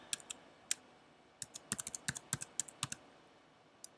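Keys on a computer keyboard clatter in short irregular bursts, a quick flurry of crisp clicks in the middle, then a pause and a couple of final taps, close and fairly quiet in a still room.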